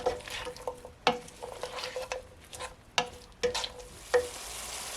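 Green beans are stirred in a frying pan over a soft sizzle while cooking for chicken chow mein, with sharp utensil clinks and scrapes against the pan at irregular intervals, close by and with no talk.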